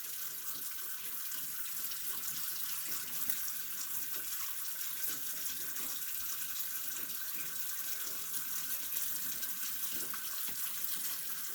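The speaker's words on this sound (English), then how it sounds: "But I'm going to take and squeeze it. See the water coming out of it, or the buttermilk coming out?" Liquid trickles and splashes steadily as buttermilk is squeezed out of a lump of homemade butter into a pan, a continuous close wet running sound with no voices.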